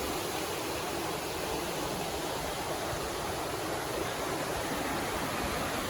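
Forney Creek rushing beneath a bridge on the way to Fontana Lake, a steady, dense broadband wash of flowing water that stays constant and fairly close throughout, with no voices.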